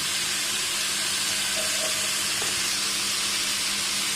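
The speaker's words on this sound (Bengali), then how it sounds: "নেড়ে চেড়ে ভালোভাবে ভেজে নিতে হবে।" Vegetables frying over high heat in a pan, a loud, continuous close hiss of sizzling oil and steam with faint stirring scrapes and no talk.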